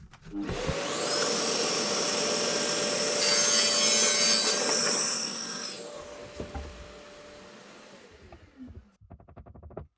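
A power saw cuts steadily through the cherry wood base of a small box to trim it to fit, a loud continuous whine for several seconds that winds down, followed by a few light scraping sounds.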